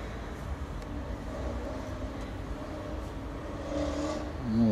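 A testing machine pulls on a plain steel rod, 10 mm thick and 150 mm long, giving off a steady low mechanical hum and grinding drone that swells slightly toward the end, with no voices.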